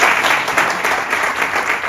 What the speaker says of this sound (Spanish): Ok, un fuerte aplauso